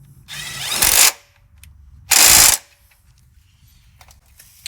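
A power tool tightens 18mm shock bolts on a Jeep Wrangler JL during a Bilstein 8100 adjustable bypass shock install, running in two loud one-second whirring bursts separated by a quiet pause.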